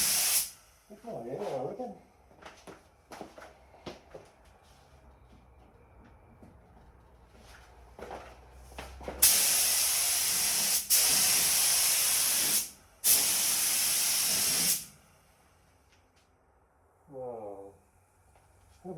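Bursts of spray gun hiss as epoxy is sprayed onto a Mitsubishi Triton tub, two long loud blasts with shorter spurts and brief talk between them.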